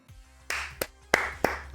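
Four sharp hand claps, spaced irregularly and fairly close, each a crisp broadband slap standing alone against a quiet, faintly humming room.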